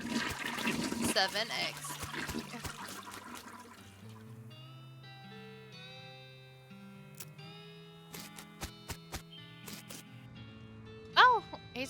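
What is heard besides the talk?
toilet flushing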